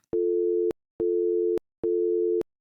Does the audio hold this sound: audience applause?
no